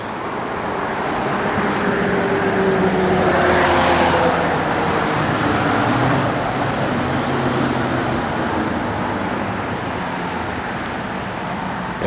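A 1969 Dodge Dart Swinger drives along, its engine and road noise forming a steady broadband rumble that swells slightly mid-pass and stays even, with no talking over it.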